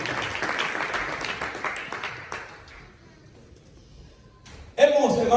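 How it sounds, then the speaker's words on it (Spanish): A church congregation claps in a brisk burst that thins out and fades within a few seconds, leaving near quiet before a louder sound cuts in at the end. "yo quiero que usted le dé palmas al Señor"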